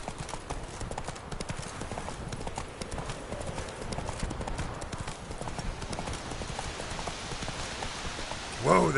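Roach, Geralt's horse in The Witcher 3, clip-clops steadily at a walk, hooves close and distinct, over a steady patter of rain, with a brief louder burst at the very end.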